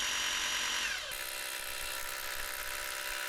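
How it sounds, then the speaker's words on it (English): A hammer drill drilling pilot holes for wall anchors whines loudly and steadily, its pitch dropping slightly about a second in as it bites, then grinding on without pause. "put it in the hammer drill and start drilling our"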